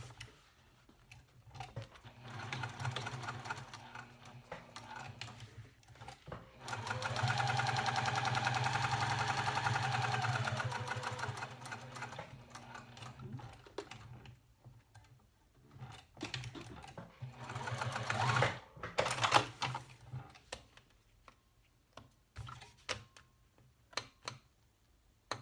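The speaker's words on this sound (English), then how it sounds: "I'm just going to top stitch on the folded edge" A sewing machine top stitches along the folded edge of a fabric tall wallet, a steady mechanical whir running for several seconds in the middle, with quieter stops, starts and handling clicks around it.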